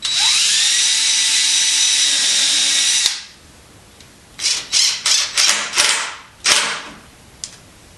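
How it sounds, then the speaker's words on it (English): A power drill drives a screw into a wooden corner shelf in one loud, sustained high whine that stops abruptly, followed by several short bursts and clicks of handling. "So while I'm down here, I'm going to go ahead and just put a couple screws in."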